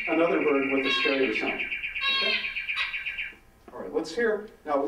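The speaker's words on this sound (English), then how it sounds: "So that's a zebrafinch." Zebra finch calls played back from a recording: rapid, buzzy, harmonic chirps in quick strings, fairly loud and close, with brief gaps between bursts.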